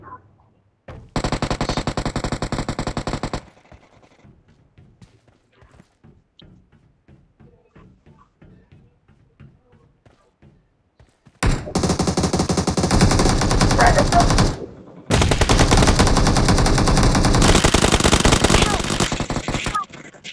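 Automatic gunfire in the mobile shooter BGMI, two long sustained bursts with a quieter stretch of faint taps between, then two more loud, dense volleys near the end.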